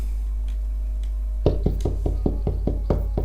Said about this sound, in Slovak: ja idem zaklopať